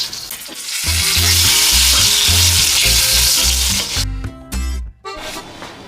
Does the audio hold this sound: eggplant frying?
yes